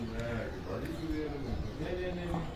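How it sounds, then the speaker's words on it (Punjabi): Pigeons coo softly in repeated low throaty calls, faint behind a voice talking throughout. "ਅੱਜ ਮੈਂ ਲੇਟ ਕੇ ਤੁਹਾਨੂੰ ਕਬੂਤਰ ਦਿਖਾ ਰਿਹਾ ਹਾਂ ਜੀ।"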